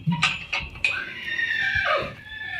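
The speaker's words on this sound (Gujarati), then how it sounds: "એકાદી જો વાંથી ઘોડી હણરાટી નાખે" A mare neighs at a farm stable in rural Gujarat, a loud, close, shaky whinny with a few sharp knocks at the start, rising then sliding downward over about two seconds.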